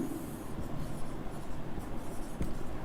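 Marker or pen writing out a resistor equation for a star-delta transformation on a board, a steady scratchy stroking texture with brief pauses between strokes, close and fairly quiet.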